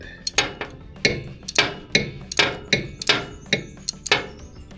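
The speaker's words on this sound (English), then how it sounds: "once you kind of bust it up with the wrench, you can just pretty much unscrew it with your hand" A wrench works loose a 3/4 oil drain plug on a Dakota. Sharp metallic knocks and clanks come close together in an uneven series of about a dozen hits, close and fairly loud, with no talking.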